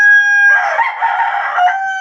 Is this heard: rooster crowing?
yes